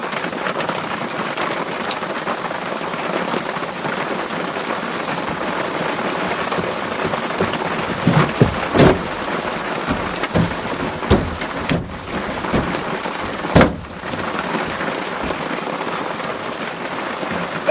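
Heavy rain drums steadily on a window and roof during a hunting trip, with a few sharper cracks and rumbles of thunder in the middle, loud and continuous throughout.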